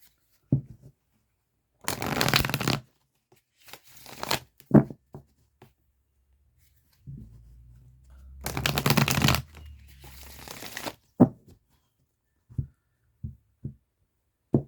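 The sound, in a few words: tarot cards being shuffled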